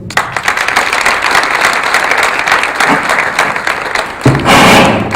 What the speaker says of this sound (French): Toujours avec les applaudissements.